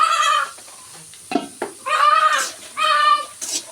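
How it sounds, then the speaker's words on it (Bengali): Backyard desi chickens and a rooster, four birds in all, clucking and calling close by in several short bursts separated by brief pauses. "এখন এখানে 4টা মুরগি, ওই যে ওইটা মোরগ"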